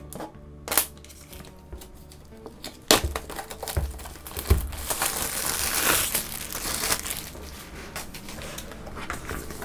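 The packaging of an Apple Watch Series 5 box is torn open with crinkling, ripping pulls and rustling paper, close and fairly loud.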